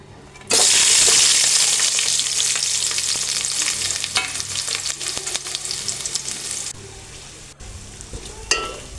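Chopped onions and green chillies hit hot oil in a pan with a sudden loud sizzle that stays strong and steady, then gradually softens with scraping stirring noises toward the end.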